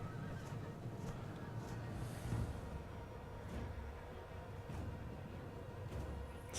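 Horses neigh and whinny inside a Forgotten Realms mod medieval battle game, several short calls rising over a steady bed of combat noise, with faint hoof clip-clop in the background.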